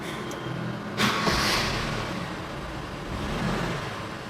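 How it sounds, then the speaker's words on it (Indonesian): A 1995 Toyota Kijang Grand Extra starts, with a short burst of cranking that settles into a steady, smooth idle, heard from inside the car at moderate loudness. "Saya akan coba starter mesin mobilnya ya."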